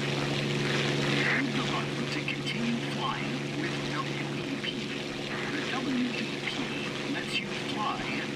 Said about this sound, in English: Increase the throttle until war emergency power is enabled.